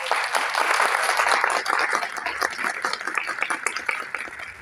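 A crowd applauds nurses of Bruzual municipality at a celebration during breastfeeding week: dense, steady clapping from many hands, loud and sustained, gradually thinning toward the end.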